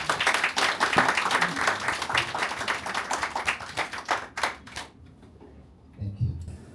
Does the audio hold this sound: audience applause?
yes